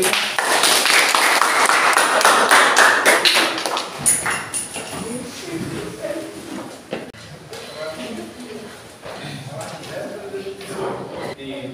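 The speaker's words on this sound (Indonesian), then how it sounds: "kasih tepuk tangan untuk" Classroom students clap for a classmate during a science lesson on blood, a loud burst of close applause for about four seconds that fades into scattered taps, shuffling and faint voices.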